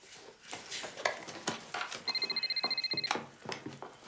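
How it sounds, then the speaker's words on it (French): An old-style telephone rings in a bar: a fast, trilling electronic ring lasting about a second, clear over a busy background of clatter and room noise. "Maudit grenade de téléphone!"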